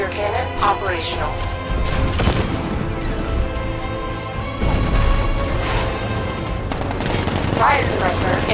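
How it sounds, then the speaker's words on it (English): Heavy 60mm tank cannon blasts and rapid gunfire in Batman: Arkham Knight crash through a dense, continuous wall of battle noise, with booming impacts and bursts of automatic shots. "60mm cannon operational."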